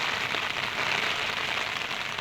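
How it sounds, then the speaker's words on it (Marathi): Steady rain falls over flooded village rice fields, a dense even hiss with no breaks, close and fairly loud throughout. "आज पाऊस पडतोय"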